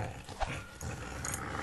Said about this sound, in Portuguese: É um cão.